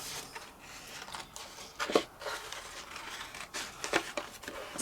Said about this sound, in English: I am going to fussy cut this out